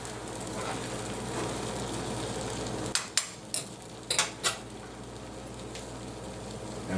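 Eggs for migas cook in a frying pan with a faint steady sizzle, broken midway by several sharp spatula taps and scrapes against the pan, close and fairly quiet.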